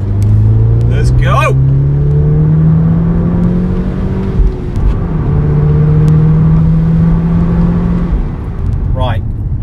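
A facelifted Audi S3 drives and accelerates, its engine note rising steadily through gears in loud, close, continuous pulls with a brief shift dip midway.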